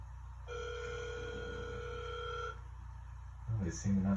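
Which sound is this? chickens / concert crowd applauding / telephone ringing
telephone ringing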